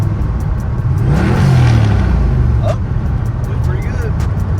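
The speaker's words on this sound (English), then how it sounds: "press the clutch in, rev it up, and if it backfires at 4 grand" Foxbody Mustang running 15 psi of boost on a stock bottom end, revved with the clutch in: a close, loud engine climbs in pitch, holds at the top, then falls back to idle, with someone talking over it.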